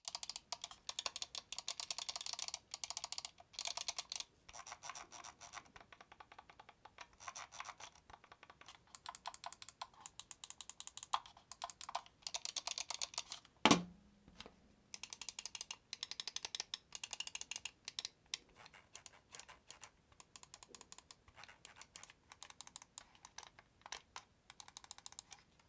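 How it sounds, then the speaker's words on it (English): Razer Viper V3 Pro and Logitech G Pro X Superlight mouse buttons click in quick, sharp, rhythmic bursts, close and dry, with brief gaps between runs of clicks. "the sound test of the buttons on these mice"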